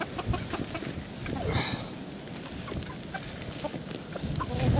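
Chickens cluck and murmur nearby in a busy, continuous chatter, with rustling and movement mixed in.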